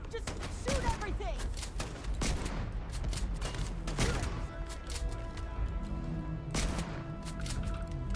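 Gunfire from the video game Starfield, with repeated sharp shots and bursts, some with ringing tails, rattling steadily under a player's talk.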